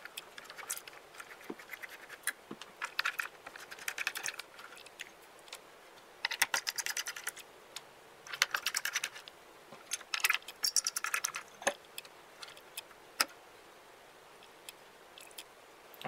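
Small screws being loosened on the mainboard of an Asus X73B laptop, heard as a long run of faint, close metallic ticks, scrapes and clicks from a screwdriver, with no talking.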